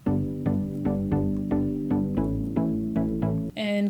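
Three layered synth plucks, one of them made in Vital, combined into a bright, punchy pattern of repeated notes in a steady rhythm, loud and upfront, ending with a brief different burst.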